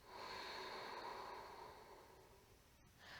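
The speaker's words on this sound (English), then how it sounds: "So the breath travels in and out with that soft ocean sound." Soft ujjayi breathing is drawn in through the nose, a faint, close, airy rush that swells and then fades during a slow yoga flow.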